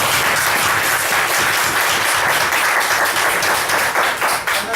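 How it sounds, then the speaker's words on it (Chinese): A church congregation applauds to thank the parents, a dense, steady burst of clapping that stays loud for the whole stretch with no talk over it. "我们用这些掌声来感谢全部家长"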